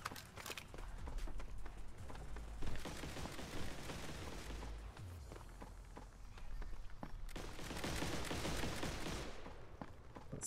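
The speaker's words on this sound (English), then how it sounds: "All the music we need is the sound of Gunfire as Limited takes out Alpha Rabbit" Rapid bursts of video game gunfire crackle in a busy, noisy mix during a 2v2 duel tournament, with fast repeated shots rising and falling over about ten seconds.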